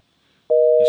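A failing phone call gives a single loud, steady electronic beep tone that starts abruptly after a short silence and holds, with no ringing.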